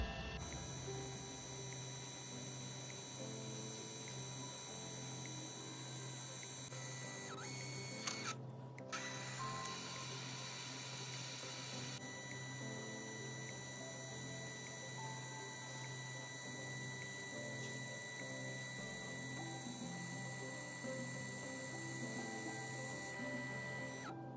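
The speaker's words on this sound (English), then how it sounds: "the printer itself is calibrating before the printing of the photo" A Liene Pearl K100 portable 2x3-inch photo printer whirs and buzzes continuously while calibrating and printing, with mechanical hums and a brief clunk partway through, running steadily for a long stretch.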